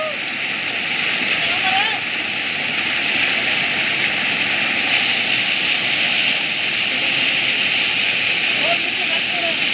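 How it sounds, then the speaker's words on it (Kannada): Kapilatirtha waterfall near Kabbaragi in Kushtagi taluk, Karnataka, runs in full spate after heavy rain. It makes a steady, unbroken rushing roar for the whole stretch and is heard from a moderate distance. "ಜಲಪಾತ ಮೈದುಂಬಿ ಹರಿತಾ ಇದೆ"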